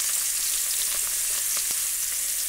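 Fish pieces fry in hot oil, a steady close crackling sizzle with a few faint pops, with no voices.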